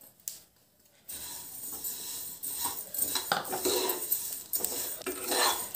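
Vermicelli stirred and fried in ghee in a pan, with a spoon scraping and clinking against the metal in a steady, uneven rhythm, close and moderately loud.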